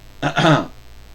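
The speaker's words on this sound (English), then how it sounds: "Sorry for that coughing there, but it happens." A single short, harsh cough-like burst, close and fairly loud, over in about half a second, with quiet before and after.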